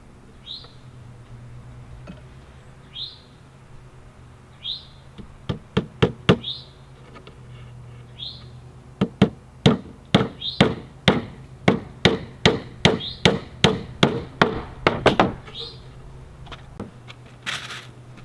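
A hammer drives 1-inch ring-shank panel nails into narrow plywood for a honey bee swarm bait hive, giving sharp, close knocks in quick clusters that grow more regular, while birds chirp intermittently outdoors.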